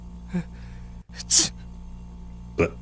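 A single sharp sneeze bursts out between quiet breaths, close and brief, against a low steady background hum.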